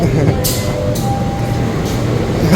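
Interior of the Pandalungan passenger train's priority class carriage, running from Jember to Jakarta, giving a loud, steady rumbling roar with a few brief rushing swells and a faint tonal whine.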